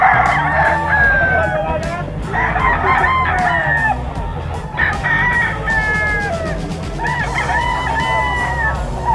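Young roosters at a busy pet market crow repeatedly in hoarse, rising calls, several birds overlapping with clucks over constant crowd murmur and background voices.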